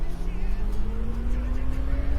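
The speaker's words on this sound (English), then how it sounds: "And engines up." Airbus A320 engines spooling up for takeoff in a flight simulator game, a steady low drone with a tone rising slowly throughout, held at a constant close level.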